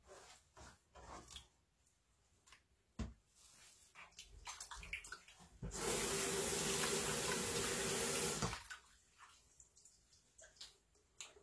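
Running tap water rinsing saltfish in a kitchen, a loud, steady gush lasting a few seconds, framed by scattered drips, splashes and light handling clatter before and after.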